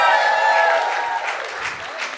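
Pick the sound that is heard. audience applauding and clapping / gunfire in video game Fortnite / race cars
audience applauding and clapping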